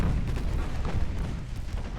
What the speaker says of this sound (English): Yep, there's the torpedo launch.